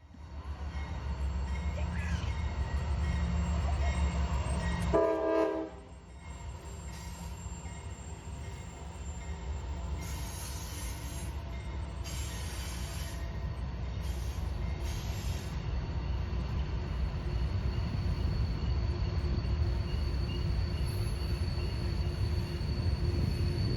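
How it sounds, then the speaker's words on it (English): An eastbound train rumbles past steadily at Horseshoe Curve, wheels clattering and faintly squealing on the rails, a continuous loud roar that holds throughout. "Our seventh train of the day, another eastbound going by."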